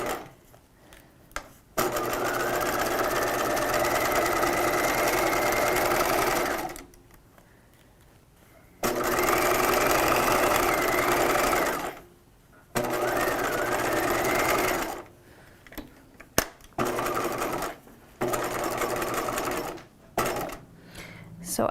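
A sewing machine runs along the upper neckline of a 1950s shelf bust dress at regular stitch length, buzzing in several long bursts separated by pauses, up close and steady.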